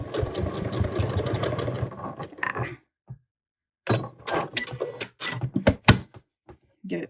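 A sewing machine tacks down a skirt waistband in short stitching bursts with pauses between, close and moderately loud, with brief talk in the gaps.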